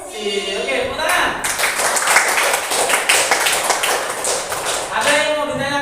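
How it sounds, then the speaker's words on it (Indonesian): Classroom group clapping at the end of a coding and AI teacher-training session, a dense burst of hand claps that starts after a brief voice, holds for several seconds, then fades as talking resumes. "Oke, tepuk tangan"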